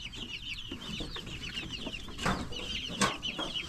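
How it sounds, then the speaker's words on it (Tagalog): Young chicks peep over and over in quick, high, thin chirps as they are moved to a new spot, with louder clucking and scattered farmyard noise mixed in nearby. "Sisiw, mga sisiw."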